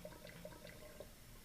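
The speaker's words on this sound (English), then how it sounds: "you see water's running down" Tap water runs through a lab vacuum filtration setup for aspirin synthesis, a soft continuous flow with faint gurgles and drips, quiet and close, with no voices.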